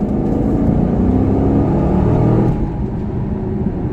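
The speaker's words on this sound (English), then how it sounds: "we're gonna go ahead and get on the gas here again" A 2015 Camaro accelerating as its engine revs, a steady low rumble and drone heard from inside the car that eases off slightly near the end.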